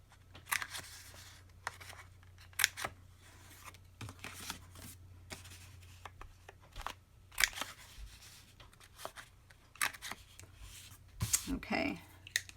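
Paper corners being rounded with scissors for a Father's Day craft treat tote: quiet, close, irregular snips and crisp clicks and rustles spread across the clip.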